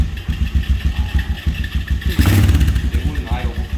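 Starter motor cranks a 2003 Honda 250EX ATV engine on a jump box after a carburetor refit, a steady rapid chugging rhythm that surges louder and catches briefly near the end, close and loud.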